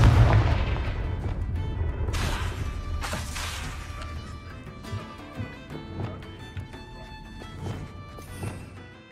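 Confringo blasting spell explosions in the Hogwarts Legacy video game: a heavy boom opens, followed by several sharper bursts and crackling impacts that fade between hits.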